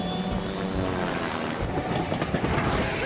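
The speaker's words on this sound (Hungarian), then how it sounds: "Szeretem az elszabadult vonatokat, amik kigyulladnak." A runaway cartoon train rolls along the tracks in a Fireman Sam episode, a dense continuous rumble and rattle with a mechanical drone that stays loud and steady throughout, no voices over it.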